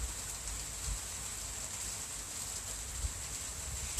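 Steady rain falling outside, a constant dense hiss of drops with a faint low rumble, unbroken and even throughout, with no voices.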